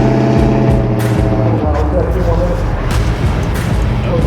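A custom car at a Goodguys show in Del Mar revs hard toward 8,000 RPM, a loud, continuous engine roar with a rising rasp and deep rumble, heard up close amid background voices.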